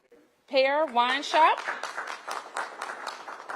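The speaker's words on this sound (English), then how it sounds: "Give them a big round of applause." A brief vocal sound, then a crowd breaks into steady applause that carries on for several seconds.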